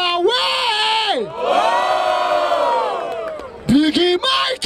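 A rap battle audience at the Batalha da Aldeia in Barueri roars and shouts in loud, sustained collective cheers for the MC Cauê, rising and falling in long bursts with a final flurry of yells.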